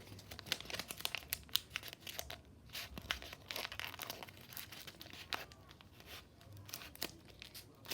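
Paper being folded for a bunny craft, with a steady stream of soft crinkles and creases close by, quiet and continuous.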